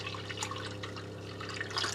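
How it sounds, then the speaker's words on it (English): Water streams steadily from a UV-purification faucet into a glass, a soft, continuous splashing that runs quietly and alone for the whole moment. "Fills the glass actually pretty quick."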